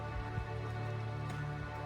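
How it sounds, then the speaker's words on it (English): Heavy rain falls in the truck-driving game SnowRunner on the Michigan map, a steady even hiss that persists throughout over a low humming engine drone, with no talking. "Heavy rain."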